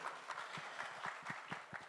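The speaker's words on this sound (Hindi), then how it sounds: "एक बार जोरदार ताली होनी चाहिए" Faint, steady rhythmic clapping rises from the audience at the Baadshaho film trailer launch event, individual claps spaced evenly and heard from a distance with no speech over them.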